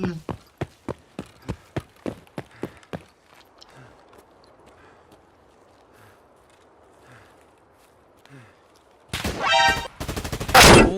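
Rapid gunfire from the video game Escape from Tarkov, a quick run of about ten sharp shots in the first three seconds, then a quiet stretch with faint distant noises before loud, dense sound near the end.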